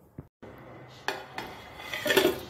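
A container of idli batter being covered for overnight fermentation: a few sharp metallic clinks and knocks of a lid and vessel, close and distinct, ending in a brief louder rattle.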